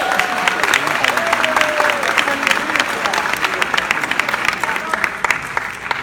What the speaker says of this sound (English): Round of applause. Give it up, give it up.